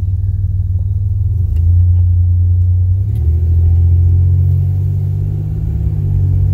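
Steady, loud engine rumble from the Scrap National, a junkyard-rescued car on a street drive, holding a deep low drone that swells slightly as it accelerates, with no talking over it.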